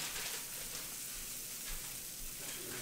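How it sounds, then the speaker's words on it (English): English breakfast fry-up sizzling in a pan, a steady, close crackle and hiss of frying food that holds even and continuous throughout, with no talking. "See that frying up, English fry up."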